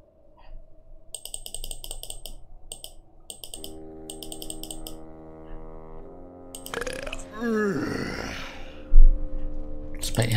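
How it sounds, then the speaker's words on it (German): A belching voice works through the burp alphabet in The Whispered World adventure game, with rough gulping bursts over steady game music and chiming tones, the loudest burp near the end. "Rülps Alphabet, juhu."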